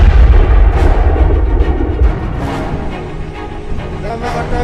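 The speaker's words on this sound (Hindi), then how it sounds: "गोलियों की गड़गड़ाहट के बीच थोड़ी थोड़ी देर में ऐसे धमाके हो रहे हैं।" Heavy booming blasts and rumbling gunfire roll through during fighting between the Taliban and resistance forces in Panjshir, Afghanistan, with a loud low thud early on and continuing crackling bursts, distant and chaotic.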